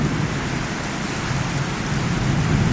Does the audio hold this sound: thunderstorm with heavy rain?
yes